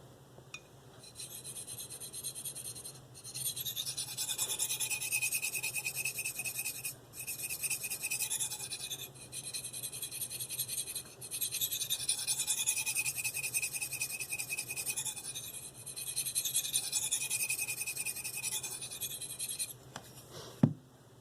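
A D2 steel Eafengrow CH3001 knife blade rasps across a Spyderco medium bench stone in long, repeated strokes, a close, dry scraping that pauses briefly between passes, ending in a small knock, with no talking.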